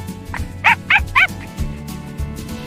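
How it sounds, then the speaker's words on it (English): A cartoon dog in a children's alphabet song gives three quick, evenly spaced yipping barks, bright and close, over a steady musical backing. "D for dog"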